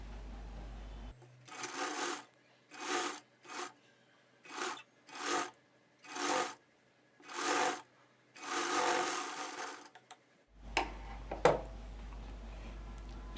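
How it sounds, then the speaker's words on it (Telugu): A sewing machine stitching a shape belt on a blouse runs in about eight short bursts of whirring, with brief pauses between them. It is close and steady, and no one speaks. "ఇప్పుడు స్టిచ్చింగ్ చేసుకుంటూ వచ్చేయండి"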